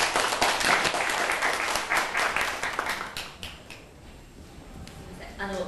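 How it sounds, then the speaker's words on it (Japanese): An audience applauds steadily for several seconds as a company president is introduced to speak, the clapping thinning toward the end, with some voices mixed in. "皆さん、拍手でお願いします。"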